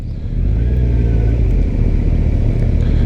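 A Kawasaki GTR1400 motorcycle engine revs loud and close, a sustained, even, droning roar that holds steady for a few seconds with no speech.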